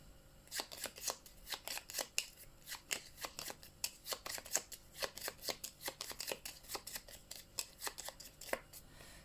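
Cards from the Glass Road board game are shuffled by hand on a table, a long run of quick, crisp riffling bursts close to the listener with no talking.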